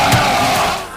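A rioting crowd in Isla Vista during the Deltopia riot shouts in a loud, dense roar, one brief burst of many voices yelling together up close.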